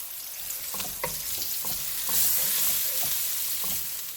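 Chicken chow mein noodles sizzle in a hot pan, with a steady hiss of frying under repeated scraping and stirring strokes at an irregular rhythm, close and moderately loud, no talking.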